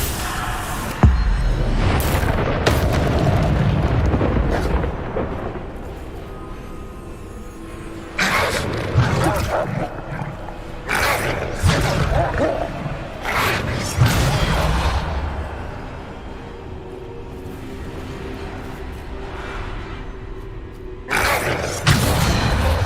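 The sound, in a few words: Bombarda explosion spells in the video game Hogwarts Legacy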